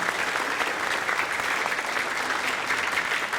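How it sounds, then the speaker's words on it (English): Crowd at a 5th grade spring school concert applauding the PTO, a steady, full round of clapping from many hands, even and sustained throughout. "huge round of applause to PTO and to Weeksy"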